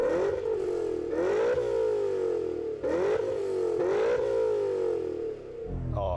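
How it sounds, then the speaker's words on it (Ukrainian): A BMW E39 M5's naturally aspirated V8 is blipped three times in quick succession, each rev swelling and falling back to a steady idle. It sounds loud and close, with no talking. "Зараз я дам газу на цьому прекрасному атмосферному V8."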